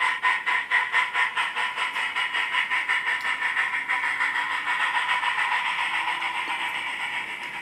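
A train on a heritage railway line rolls steadily past at close range, its wheels beating a continuous rhythmic clickety-clack that gradually fades slightly toward the end.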